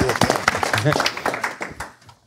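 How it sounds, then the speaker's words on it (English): Audience applause at a marketing meetup, a brief burst of clapping mixed with voices that thins out and fades within a couple of seconds. "I'll take that as the applause for me in advance"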